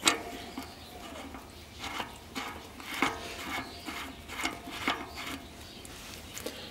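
A bicycle freehub axle being screwed into a rear wheel hub, giving a run of soft metallic clicks and scraping ratchet-like turns at an even pace, close and fairly quiet, with no voices.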